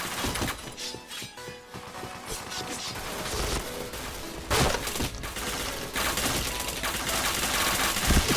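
Dense rapid gunfire and crashing impacts from a PointBlank shooter match, loud and continuous with bursts throughout, no speech.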